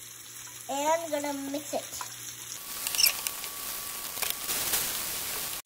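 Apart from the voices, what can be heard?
onions sautéing in olive oil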